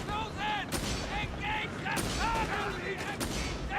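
Bursts of machine gun and rifle fire crackle through a video game battle, sharp repeated shots in quick clusters with overlapping radio-like chatter and shouting voices.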